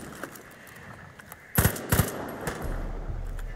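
Shotgun blasts aimed at vultures in Far Cry 5 boom twice in quick succession, loud and close, over a low game ambience with a humming drone coming in afterward.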